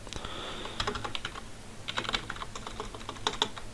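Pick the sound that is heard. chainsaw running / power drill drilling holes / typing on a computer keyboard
typing on a computer keyboard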